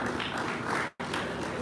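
Live crowd applause at a boxing face-off event in Los Angeles, a dense, loud, continuous wash of clapping and cheering that cuts out briefly before resuming at full strength.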